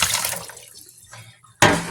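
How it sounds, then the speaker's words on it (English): Water pours from a container into a kitchen sink, a splashing rush that tapers off, then a sudden loud gush of water near the end. "I'm gonna pour the water out in the sink here"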